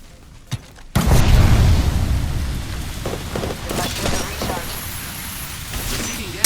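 A frag grenade bursts in a tactical video game with a sudden heavy boom, followed by a rumbling, debris-filled decay that trails off over several seconds while a voice is heard.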